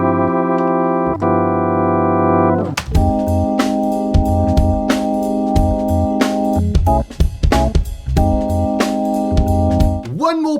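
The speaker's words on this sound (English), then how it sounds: "If you're a fan of the sound of the Hammond organ without the Leslie rotary speaker," Hammond organ played dry without a Leslie rotary speaker, a sustained steady chord opening before a lively run of short, punchy staccato chords and percussive clicks, clear and close with no vibrato swirl.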